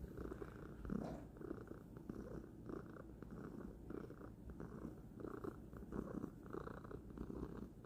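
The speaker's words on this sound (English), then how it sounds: "She is purring." A steady, low rumbling purr from a cat close by, continuous and even throughout with soft rhythmic pulses.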